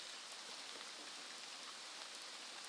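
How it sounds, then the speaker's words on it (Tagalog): Rain falling steadily on a hillside hut roof and the surrounding pineapple plot on a mountain, a dense continuous patter with no voices, even in level throughout. "Sumilong lang po tayo mga idol gawa nung umuulan"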